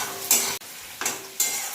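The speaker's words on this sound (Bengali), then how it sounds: "পেঁয়াজগুলো আমার অর্ধেক ভাজা হয়ে গেছে" Onions sizzle in a pan for a village-style rohu fish curry while a spoon scrapes and stirs in three or four quick bursts, close and fairly loud, with no talking.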